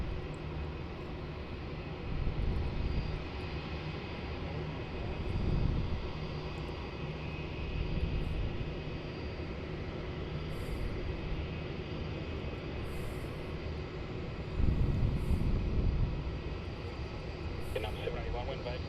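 Airliner engine roar at Melbourne Airport as a Vietnam Airlines plane moves on the airfield, a steady broadband rumble that swells in places, with talk over it.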